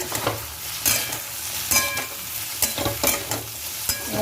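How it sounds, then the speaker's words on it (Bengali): Potatoes sizzle steadily in a pan for aloo posto while a spatula stirs them, with repeated sharp scrapes and knocks over the continuous frying hiss, close and fairly loud, no talking. "আলু পোস্তের আলুটাকে একটু নেড়ে দিই"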